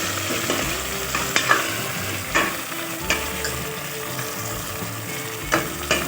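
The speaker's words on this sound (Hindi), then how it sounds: "थोड़ी देर गोश्त भून लेते" Meat frying in a pot as the base for a meat curry, a steady loud sizzle with repeated scraping stirs of a spoon against the pot, no voices.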